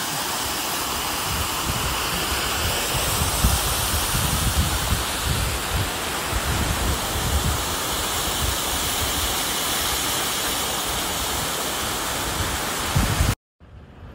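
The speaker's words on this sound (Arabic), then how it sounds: "وصلنا لمنطقة شلالات، منطقة جميلة بين الجبال." Waterfall among the mountains of São Miguel island, a dense, steady rushing roar that stays loud and unbroken for about thirteen seconds before cutting off abruptly.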